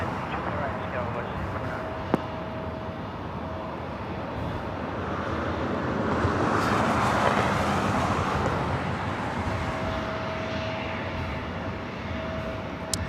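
An airplane landing at LAX runs past as a broad, steady jet roar that swells in the middle and then fades, with radio chatter over it.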